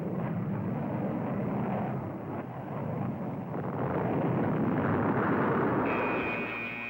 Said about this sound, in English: Within minutes, fighter bombers can reach any area.